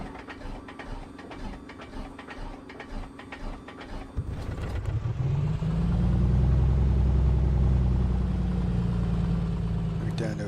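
A Piper PA-24-250 piston engine in Microsoft Flight Simulator 2024 catches after a stretch of clicking and a voice, then settles into a steady, loud, low droning idle.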